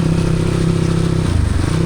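A scooter engine runs steadily at idle close by, a low, continuous mechanical hum with a faint clatter, unbroken for about two seconds with no voices.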